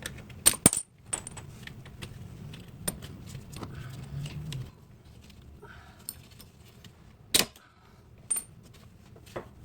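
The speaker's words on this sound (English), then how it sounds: "so we can remove the bolts that are holding the CV axles to the rear differential" Metal tools click and clink while bolts are loosened and removed from a BMW 318iS E30 rear differential, sparse sharp taps and jingles spread over a quiet workshop background.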